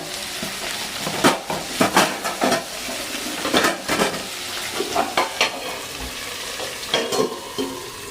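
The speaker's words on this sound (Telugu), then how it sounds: "వేసుకొని ఉల్లిపాయలు ఉప్పు వేస్తాను కదా, చక్కగా వేగుతాయి." Onions frying with salt in a pan for onion chutney, with a continuous sizzle broken by repeated loud scraping and clinking strokes of a spoon stirring against the pan, close and uneven in rhythm.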